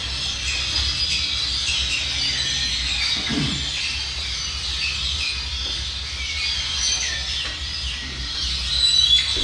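A dense chorus of birds screeching and squawking continuously from trees, loud and overlapping, with no pauses and no talking.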